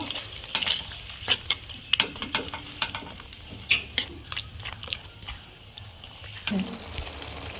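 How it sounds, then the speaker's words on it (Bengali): Chopped tomato and green chili being stir-fried for Kashmiri aloo dum, with a soft sizzle under repeated spoon scrapes and knocks against the pan, irregular and close. "টমেটো কুচি কাঁচা লঙ্কা ভালোভাবে কষিয়ে নেব"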